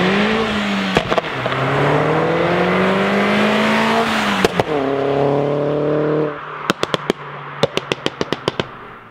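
A Ferrari F12 supercar with an aftermarket exhaust starts and revs loudly at an Andorra dealership, its engine note rising and falling in sweeping revs before dropping to idle amid a rapid string of sharp crackling pops.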